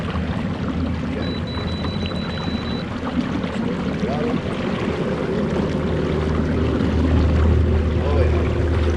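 An Old Town Sportsman Auto Pilot 136 kayak with dual motors runs at full throttle, a steady broadband water rush and low motor drone, loud and continuous, growing slightly louder toward the end.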